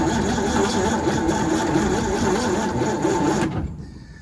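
A 1951 Ford F1 truck engine with old gas runs steadily with a dense, rough mechanical drone, then cuts out abruptly near the end, leaving quiet.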